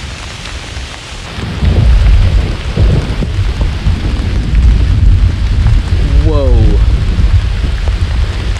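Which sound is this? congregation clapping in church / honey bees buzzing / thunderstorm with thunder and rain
thunderstorm with thunder and rain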